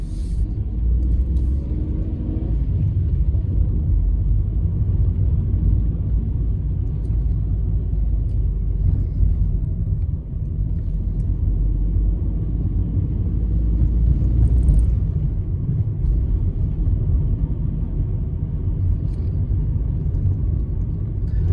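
A car creeps slowly around a corner in first and second gear, giving a steady low engine rumble heard from inside the cabin with little change in loudness.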